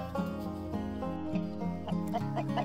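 Hens on a farm cluck in a rhythmic series of short, throaty calls, close and moderately loud, with no talking.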